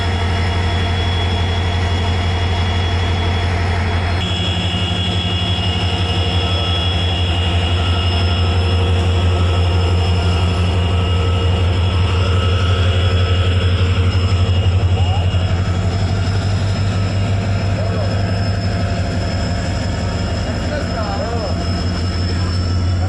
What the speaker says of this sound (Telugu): 100 నుంచి 110 కిలోమీటర్ల వేగంతో రైలును కొత్తగా వేసిన రైలు పట్టాలపై నడిపి స్పీడ్ టెస్ట్ చేయటం జరిగినట్లు తెలిసింది